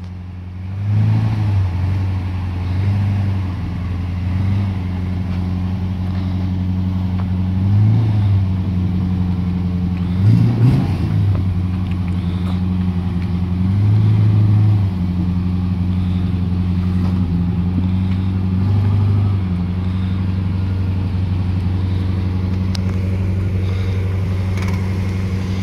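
A Rover P6 with a 3.5 V8 runs with a deep, steady engine drone, swelling in several short revs over the continuous rumble, loud and close throughout.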